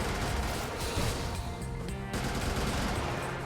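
Rapid, continuous gunfire from extra turrets in the video game Brigador, a dense rattling barrage that stays loud throughout with no pauses.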